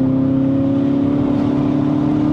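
A Kia Optima GT's 2.0-litre turbo engine pulls hard under acceleration, a steady loud cabin drone with a rising harmonic whine and no pauses throughout.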